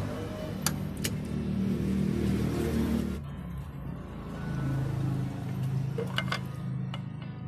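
An Isuzu 4HF1 diesel engine idles steadily at a moderate distance, a low even rumble with faint metallic clicks and a slight dip and rise partway through.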